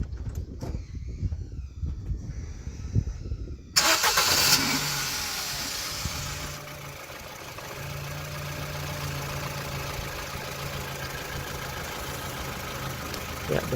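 A Ford Focus engine cranks and catches, then settles into a steady, close mid-pitched idle that continues alone for several seconds.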